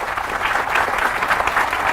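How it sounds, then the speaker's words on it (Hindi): Audience clapping at a Forever Living Products training seminar, a steady dense applause from a crowd throughout. "इस बात पे जोरदार तालियां होनी चाहिए हमारे"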